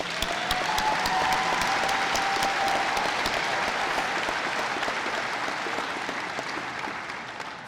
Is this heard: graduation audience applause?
yes